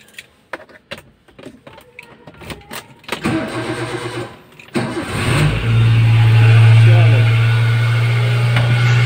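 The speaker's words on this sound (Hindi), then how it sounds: "अब पहले गाड़ी स्टार्ट करें, उसके बाद लॉक खोल लेंगे।" A car starting for a service trip: a few seconds of clicks and handling noises, then the starter cranks and the engine catches. It settles into a loud, steady idle, close by.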